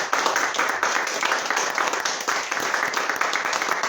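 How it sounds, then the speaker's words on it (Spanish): A church congregation claps together during a Sunday worship service, a dense, steady round of applause with slight rhythmic pulsing, moderately loud and unbroken by speech. "Le recibimos al Señor y a su presencia con un aplauso."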